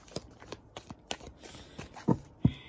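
A deck of cards is shuffled in quick, crisp riffles and taps, about eight short bursts close up in a quiet room, ending with a couple of louder snaps.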